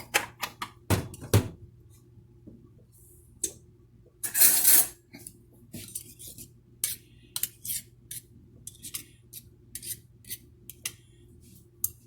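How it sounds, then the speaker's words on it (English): Metal cake mixer beaters are scraped clean by hand while baking Christmas cookies, producing scattered sharp clinks and scrapes, a few louder clatters early on and then lighter intermittent taps, close by with no talking. "I'm going to scrape these beaters down"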